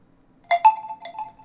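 A short electronic notification chime from a Huawei P20 Pro smartphone: two quick bright tones followed by a softer melodic tail, clear and close in a quiet room.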